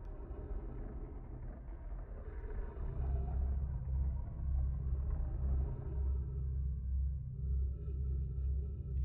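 A deep, continuous storm rumble on a planet in the video game Outer Wilds, steady and heavy throughout and swelling slightly louder midway, with no speech over it.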